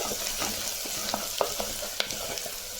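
Onions sautéing for sambar in a pan, a steady close sizzle punctuated by quick scraping and tapping stir strokes, moderately loud, with no talk.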